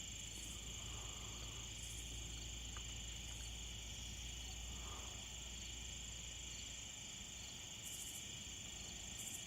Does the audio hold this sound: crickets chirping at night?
yes